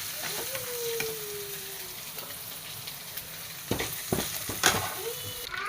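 Sardines frying in oil in a pan, a steady crackling sizzle with a few sharper spatters and scraping clatters of a turner in the second half, close and moderately loud, no speech.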